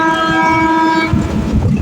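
Moving train heard from its roof, a loud sustained multi-tone horn blaring over the rumble for about a second, then steady rolling clatter of wheels on track close by.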